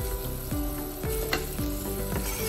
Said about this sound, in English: And then we're gonna add our onions and garlic.